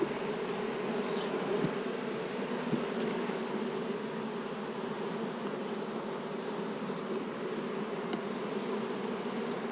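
Honey bees at a nuc hive building new comb on a string make a steady, even buzzing hum, close and unbroken throughout, with no speech.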